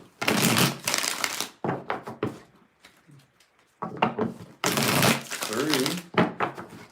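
Tarot cards being shuffled in quick bursts of riffling and flicking, close and crisp, with short pauses between rounds of shuffling.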